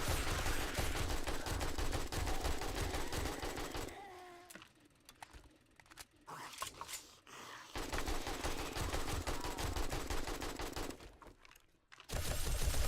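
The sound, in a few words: gunfire from player's weapon in 7 Days to Die video game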